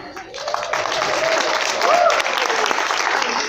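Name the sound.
applause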